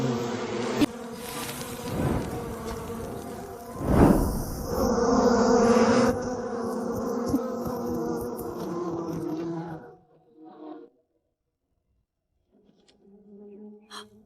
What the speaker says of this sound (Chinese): 小五，蜜蜂走了